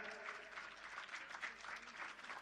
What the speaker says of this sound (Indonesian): Wih, tepuk tangan dulu ya.